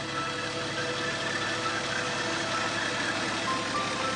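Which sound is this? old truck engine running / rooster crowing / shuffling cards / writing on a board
old truck engine running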